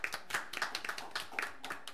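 A small group at an arts commission meeting clapping for an art show winner, sparse distinct hand claps in an uneven rhythm from only a few people, close and moderately loud.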